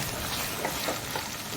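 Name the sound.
mixing leftover masala into frying biryani base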